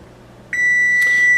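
Oven timer on a kitchen oven set while baking hardtack survival bread, giving a loud, steady high-pitched electronic beep that starts suddenly and holds, with no one talking over it.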